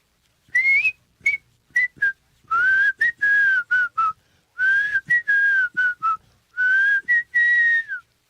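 A person whistles a tune in short bursts and longer phrases, a clear, close melodic whistle with brief pauses, alone without talk, attempting to copy someone else's whistle.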